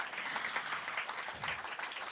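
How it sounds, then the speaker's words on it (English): An audience at a formal launch ceremony with PM Modi and PM Loong on stage applauds. The crowd claps in a steady, continuous patter that sounds fairly soft and distant, with no speech over it. "How about a round of applause, please, for all the gentlemen on stage?"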